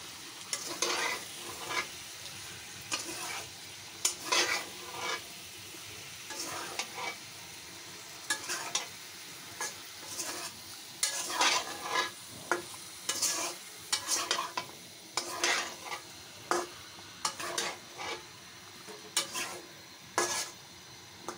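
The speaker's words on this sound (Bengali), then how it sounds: "তারপর নাড়াচাড়া দিব, তখন মিলে যাবে তেলের সাথে সব কিছু।" Chicken curry with tomatoes stirred as it fries in oil, a spoon scraping and knocking the pot in irregular bursts over a steady close sizzle, with no talking.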